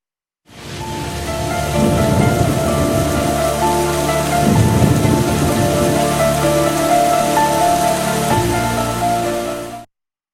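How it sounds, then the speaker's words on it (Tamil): Heavy rain pours steadily in Tamil Nadu, with deep rolls of thunder rumbling underneath at intervals, loud and continuous throughout with no voices. "வெப்பச்சலனம் காரணமாக சென்னை உள்ளிட்ட தமிழகத்தின் பல்வேறு இடங்களில் பரவலாக மழை பெய்து வருகிறது"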